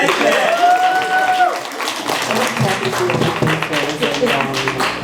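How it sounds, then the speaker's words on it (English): Audience clapping for a woman at a gathering, a steady dense patter of many hands at close range, with voices mixed in throughout. "Clap for that lady."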